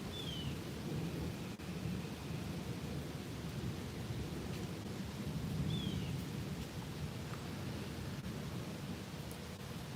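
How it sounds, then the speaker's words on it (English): Heavy rain pours down in a dense, continuous wash with deep rumbling underneath, steady and enveloping for the whole stretch, with faint high chirps now and then. "It's coming down pretty fucking heavy where I'm at"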